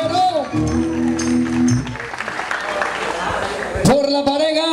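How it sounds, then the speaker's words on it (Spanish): Applause from guests at a quinceañera party, a dense burst of clapping in the middle, bracketed by music and voices talking and shouting. "Aplauso para ella."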